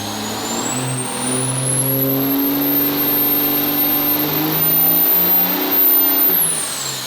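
A tuned 2005 car making about 1118 horsepower roars on a dyno, its engine note climbing steadily through a long, loud pull before cutting off sharply near the end.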